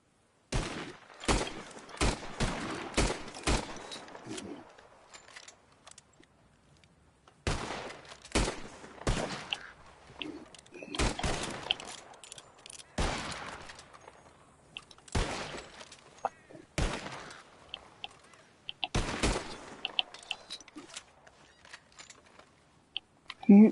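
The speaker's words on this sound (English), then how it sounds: "whoever shoots 4 birds out of the sky first wins" Gunshots in Red Dead Redemption 2 during a contest to shoot birds out of the sky, sharp cracks fired in quick bursts and single shots with short pauses between volleys, fairly close and loud.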